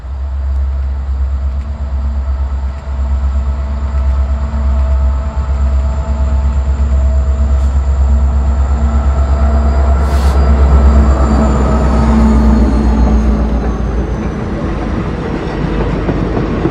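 Restored steam locomotive 614 rolls slowly along Amtrak tracks at about 25 mph, a loud, close, continuous low rumble with rail clatter and a brief whistle-like tone partway through.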